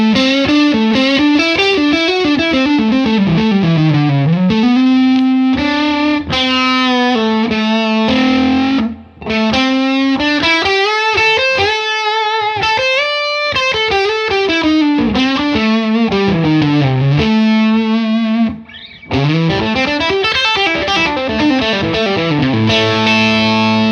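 Electric guitar through an overdrive pedal set to heavy drive, played continuously as a thick, saturated run of notes and chords, loud and close, with two brief breaks.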